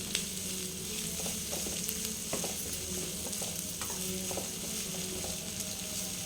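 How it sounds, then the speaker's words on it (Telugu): Chopped onion and green chilli frying in a pan, with a continuous hot sizzle and repeated scraping strokes of a spatula stirring. "ఉల్లిపాయ, పచ్చిమిర్చి బాగా వేగేంత వరకు ఆగి క్యాప్సికము, టమోటా వేసుకోవాలి."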